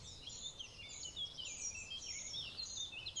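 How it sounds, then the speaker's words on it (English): On a sunny morning in France, several birds sing outdoors in a dense, continuous chorus of bright trills and chirps, moderately close and steady throughout, with no talking. "the sound of the birds and a full blue sky"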